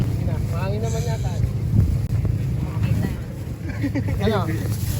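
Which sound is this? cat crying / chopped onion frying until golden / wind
wind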